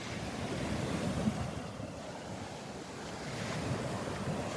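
Stirred-up Gulf of Mexico surf breaking on the beach at Delnor-Wiggins, a steady roar of waves with wind buffeting the microphone, swelling and easing in broad surges, no voices.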